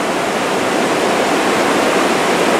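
Water rushes steadily at the outlet of Biscotasing Lake where it flows into a wild river, a loud, unbroken broadband roar heard close, with no other sounds over it.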